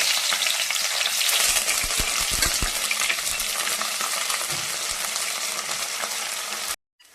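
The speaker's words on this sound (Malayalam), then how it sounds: "ഇപ്പൊ കടുക് കൂട്ടിക്കഴിഞ്ഞാൽ നമുക്ക് ഉടനെ ഇഞ്ചി പച്ചമുളക് വേപ്പില അതുപോലെ തന്നെ വെളുത്തുള്ളി ഇത്ര കളഞ്ഞിട്ട് കൊടുക്കുന്നുണ്ട്" Mustard seeds, ginger, green chili, curry leaves and garlic fry in hot oil for a pearl spot fish curry, giving a loud, steady crackling sizzle that runs without a break and then stops abruptly just before the end.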